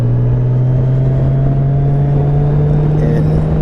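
A 2014 Honda Valkyrie cruiser motorcycle engine hums steadily and loudly while riding, a deep even drone with constant wind and road rumble and no change in pitch.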